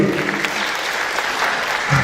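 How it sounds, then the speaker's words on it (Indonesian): Applause for a guest at an Indonesian business talk, a dense steady clapping crowd filling the room throughout, with a faint voice at the start. "Tepuk tangan dulu buat Mas Jaludin"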